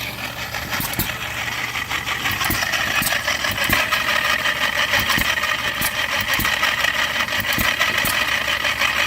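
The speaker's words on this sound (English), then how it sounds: "These little engines, they just go all day. Pop, pop, pop, pop, pop." A small stationary engine drives a farm flour mill grinding corn at a gas and steam show, chugging steadily and continuously at close range with sharp periodic pops over a busy outdoor din.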